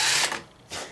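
A ratchet wrench with an 8mm socket turns out a shoulder bolt on a Husqvarna push mower, giving a quick burst of close, dry clicking from the pawl that briefly pauses and then resumes.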